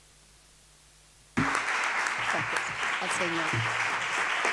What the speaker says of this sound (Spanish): Los aplausos hoy a la Santísima Virgen María